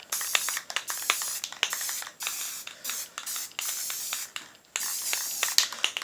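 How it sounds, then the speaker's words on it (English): Black spray paint hisses from an aerosol can in a run of short bursts of varying length separated by brief gaps, close and fairly soft, without talking. "I just want to give it a quick spray."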